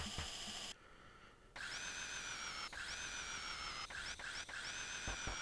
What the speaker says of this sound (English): Are they drilling a hole in each of our heads in order to transfer the brain?